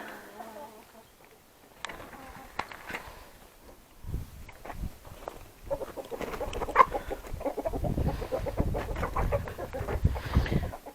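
Backyard flock of Wyandotte cross chickens and roosters clucking in a coop, scattered near clucks and calls growing busier and denser toward the end, with occasional footsteps and a faint voice.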